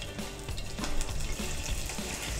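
Onions fry in a generous amount of oil in a pan, a constant close sizzle and crackle with faint stirring scrapes throughout, no voices.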